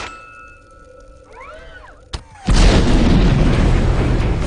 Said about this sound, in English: blows them up with a tank missile.